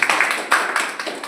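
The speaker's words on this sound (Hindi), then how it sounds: "इनके लिए जोरदार तालियां।" Applause for a trainee at a safety equipment class on inflatable life jackets: a short burst of quick hand claps from a small group of people, fairly close and dense, lasting about a second.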